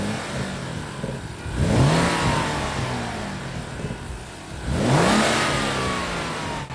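Stock BMW 335i engine revved twice in short blips, each rising quickly and falling back to a steady idle, heard up close with no talking.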